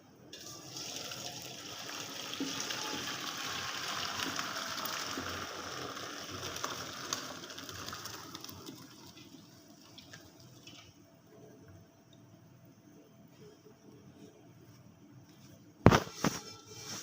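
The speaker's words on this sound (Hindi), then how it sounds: "चावलों का पानी उतारते हैं।" Hot water poured off boiled rice into a sink, a broad rushing splash for about eight seconds that thins to a faint trickle, then a short sharp clank near the end.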